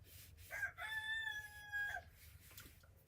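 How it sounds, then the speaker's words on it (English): A chicken lets out a drawn-out, crowing-like call with a clear, wavering tone, close and alone, followed by a short cluck. "These chickens make some weird noises."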